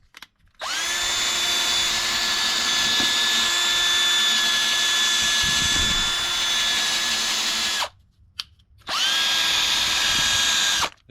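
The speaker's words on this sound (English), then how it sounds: "should be more than enough to get the surface rust off there" A drill fitted with a wire wheel scrubs surface rust off metal during rust repair on a Mercedes ML430, giving a loud, steady high-pitched whirring grind that runs continuously, stops briefly, then starts again.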